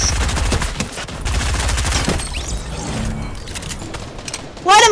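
Rapid bursts of video game gunfire, dense crackling volleys up close with mechanical clatter, then a brief whooshing effect at the end, under excited talking from players.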